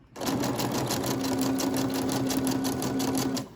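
A sewing machine stitching a paper journal tag runs in one continuous fast burst for about three seconds, a close, steady mechanical whir and rapid needle chatter with a faint tonal hum.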